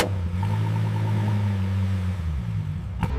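A restored 2012 Lamborghini Gallardo engine runs steadily at close range, a deep continuous rumble with a smooth, even tone holding for a few seconds before a short sharp knock near the end.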